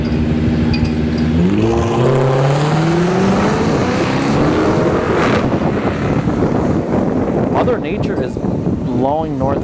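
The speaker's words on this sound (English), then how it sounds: "we got the Charger RT here in the right lane, and the left lane is the Lexus sedan." A Dodge Charger RT and a Lexus sedan launch side by side at a test-and-tune drag strip. Loud engines climb steadily in pitch through the gears, then settle into a sustained roar with wind buffeting and a voice talking over it.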